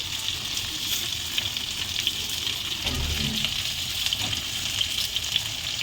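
Green chillies sizzle steadily in hot oil in a pan, with a broad continuous crackle, a brief louder burst near the middle and light stirring, recorded close.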